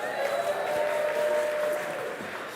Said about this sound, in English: Let's give Janice a big round of applause.